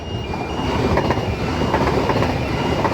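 A Mariyung D-set electric passenger train passes platform 2 at Cowan station, a steady loud rumble of wheels on rails with clickety-clack joints running throughout, close by and with no talk.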